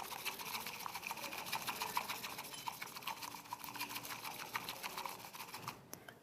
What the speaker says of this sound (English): You use the whisk, which is made out of bamboo.